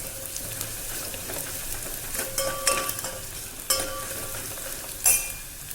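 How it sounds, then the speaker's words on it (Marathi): Onions sauté in a pan for sambar, giving a soft, continuous sizzle with repeated stirring scrapes and light clinks of a spoon against the pan, and a brighter clatter near the end. "इथं छान कांदा परतून घ्यायचा आहे आपल्याला चांगला मऊ"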